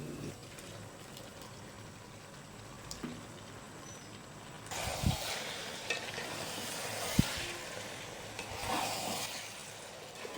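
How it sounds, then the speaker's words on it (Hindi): Fried okra is tipped into sizzling masala in a pan and stirred, bringing a louder burst of hissing with scraping and clinks over a steady low fry. No one speaks. "अब हम इस स्टेज पर इसमें ये जो भिंडियाँ हमने फ्राई करके निकाल ली थी, ये इसमें ऐड कर देंगे"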